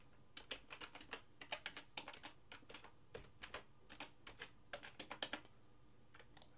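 Someone types a username on a computer keyboard while setting up dynamic DNS on a router, producing close, quiet bursts of rapid key clicks with short pauses and a faint hum underneath.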